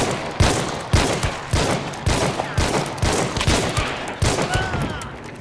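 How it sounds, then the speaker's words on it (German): Repeated gunfire in the Hunt: Showdown video game, a steady series of about ten loud sharp shots roughly every half second, with faint whistling ricochet-like tones late in the burst. "höre auch schon eine Schießerei, bei der ich vielleicht unerkannt mitmischen kann"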